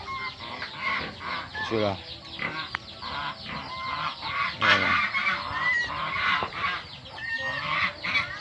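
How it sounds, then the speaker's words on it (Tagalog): Geese and ducks on a farm honking and quacking in a noisy, overlapping flock, close by and continuous, with chickens clucking among them and a person speaking briefly over the birds. "Yan yung mga ano, mga gansa, mga pato."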